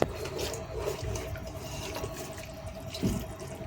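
Hot water poured little by little into a pot of majboos chicken on the stove, a close splashing, trickling pour with small drips and a bump near the end, no talking.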